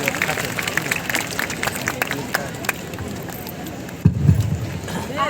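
Audience at a Baisakhi festival gathering applauds loudly to welcome an Urdu poetess, a dense steady wash of clapping and crowd noise throughout, with a heavier burst of thumps and cheering near the end.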